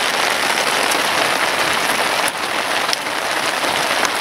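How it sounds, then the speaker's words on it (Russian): Steady rain drums on surfaces around a night campfire in the taiga, a dense continuous patter close by with no voices. "Дождик разбарабанился. Барабанит."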